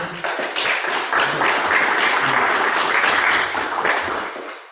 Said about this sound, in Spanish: Le damos un aplauso nuevamente.